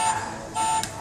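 A Porsche Carrera toy car sounds its electronic horn as two short, thin synthetic beeps, the second longer, close and fairly quiet.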